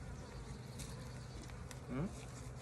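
Honeybees ventilating at a hive entrance buzz in a close, continuous low drone, with one louder bee passing briefly near the end.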